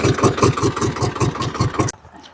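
A farm tractor idles close by with a steady, throbbing mid-low chug that pulses evenly about four times a second, then cuts off abruptly near the end, leaving quiet.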